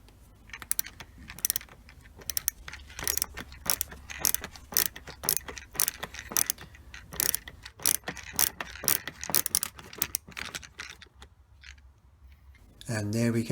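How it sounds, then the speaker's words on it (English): A crosshead screwdriver backs a screw out anticlockwise on a Vespa GTS scooter's rear indicator housing, giving a string of close, sharp ratchety clicks and scrapes in uneven bursts before a brief rustle at the end. "just remove that screw there. So let's just turn this anti-clockwise."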